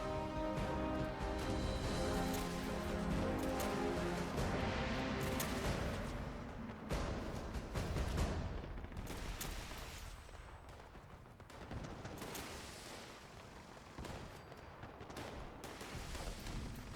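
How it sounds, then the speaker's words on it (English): Video game combat crackles with bursts of gunfire and booming grenade explosions, dense and loud at first, then thinning into scattered, more distant blasts. "These are guys throwing grenades there mostly."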